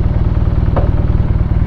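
A BMW R nineT motorcycle engine chugs close by in a fast, regular low thump as it pulls away, with a brief rattling clatter midway.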